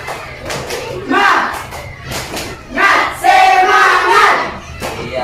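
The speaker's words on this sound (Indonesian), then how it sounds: "Tepuk semangat." A school class performing the rhythmic 'tepuk semangat' clap, several bursts of group claps and chanted voices in quick patterned rhythm, loud and close in a classroom.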